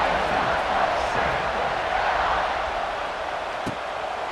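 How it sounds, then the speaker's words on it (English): A stadium crowd in a college football video game, LSU against Ohio State, gives off a dense, steady roar of massed voices that holds at an even level, with a commentator's voice faintly mixed in. "this crowd is buzzing after that last score"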